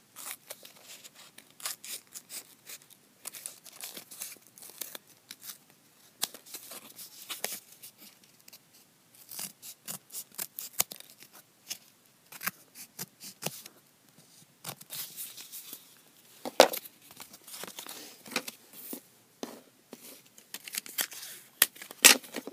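Scissors snip off the overhanging paper edges on a handmade doll xylophone, giving close, crisp cuts that come in irregular bursts with short pauses between them and no voices.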